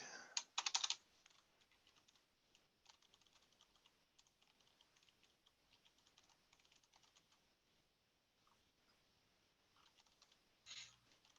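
Faint typing on a computer keyboard during an online meeting about Node.js N-API, with a brief cluster of keystrokes at the start and sparse soft clicks afterward.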